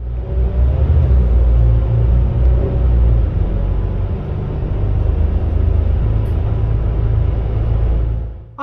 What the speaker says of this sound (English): Today's chariot is a Volvo B8RLE with a Bustech VST body, numbered 16